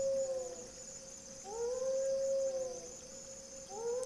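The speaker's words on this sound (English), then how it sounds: "here's a wolf howl with the Dizzy preset" A wolf howl processed through a Dizzy reverb preset: long rising-and-falling wavering tones repeating about three times, smeared and swirling with a steady high whine, no talking.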